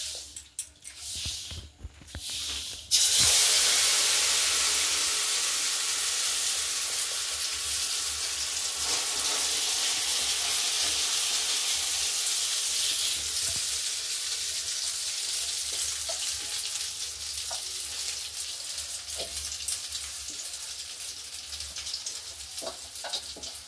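Egg poured into a hot pan for an omelette, a sudden loud sizzle bursting in after a few seconds of quiet handling, then a continuous close frying hiss that slowly eases, with no voices.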